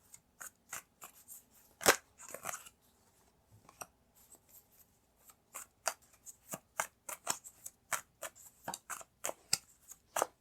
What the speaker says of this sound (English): I'm going to pull out more cards.